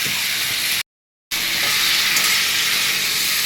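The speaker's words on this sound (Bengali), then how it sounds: "টমেটো বাটাটা দিয়ে দিচ্ছি টমেটোটা দিয়ে আমি ভালো করে কষিয়ে নিচ্ছি" Tomato paste sautéing in oil in a pan, a loud, steady close sizzle with one brief dropout.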